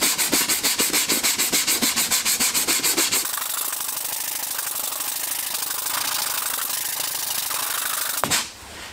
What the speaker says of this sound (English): I've got my 80 grit sandpaper on the sanding block. I'm just going to try and keep the shape of the bumper as I sand.